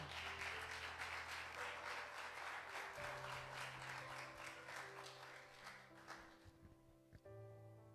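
A church congregation applauding, dense sustained clapping filling the room with tonal music tones underneath, then thinning out and fading near the end.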